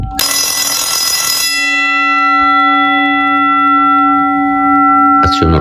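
An electric school bell rings loudly and metallically for about a second and a half, then its tone lingers and decays in a long resonant hum before a brief clunk of the timer switching near the end.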